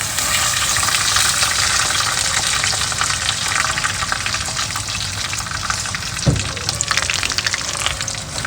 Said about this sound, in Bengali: পনিরগুলো তেলের মধ্যে আমি দিয়ে পনিরগুলো একটু লাল লাল করে ভেজে পনিরগুলো আমি তুলে নেব।